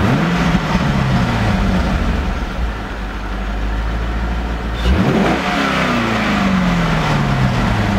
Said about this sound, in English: I'm gonna give it a few revs to see if it comes back.